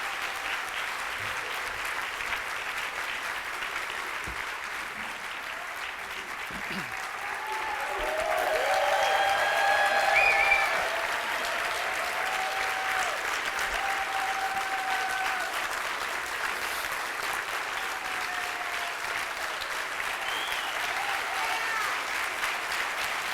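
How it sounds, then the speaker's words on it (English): Sustained round of applause from a seated audience at an annual charity breakfast awards event, a steady wash of many hands clapping that swells briefly in the middle, with faint voices beneath. "Let's give him a round of applause."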